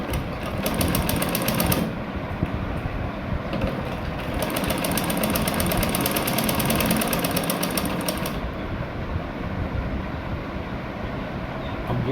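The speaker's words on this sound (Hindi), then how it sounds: "इस तरह से यूँ स्टिच करते जाना है।" A sewing machine stitches a sleeve seam with a fast, steady mechanical whir, loud and close, pausing briefly and then resuming in a continuous run.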